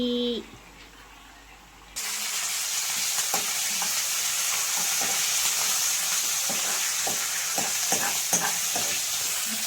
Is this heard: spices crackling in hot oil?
yes